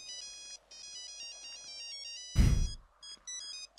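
A phone ringtone from the video game GTA plays as a repeating bright electronic melody, loud and close, briefly interrupted by a sharp burst of noise midway.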